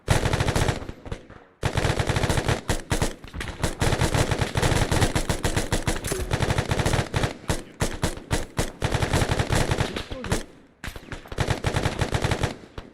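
Sustained automatic gunfire in the military video game ARMA 3, rapid rattling bursts of a machine gun firing close and loud for long stretches, broken by a few short pauses between volleys.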